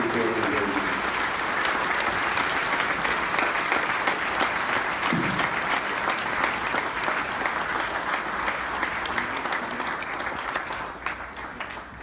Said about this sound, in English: please stand up and give her a round of applause